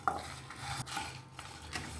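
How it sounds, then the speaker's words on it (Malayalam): A utensil scrapes and taps in a pan while sesame, cumin, pepper and cinnamon are dry-roasted and stirred, with a sharp clink at the start and soft scraping strokes after it. "നല്ലതുപോലെ ഇളക്കി കൊടുക്കുക"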